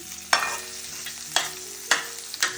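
Baby potatoes and onions frying in a pan for a podi roast, with four sharp stirring scrapes standing out over a low, steady sizzle, close and fairly loud.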